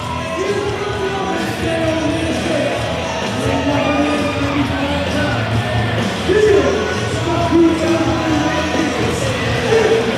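A wrestling crowd cheers for Roman, a steady roar of yells and shouts from a large arena audience, loud and continuous with brief swells of louder voices.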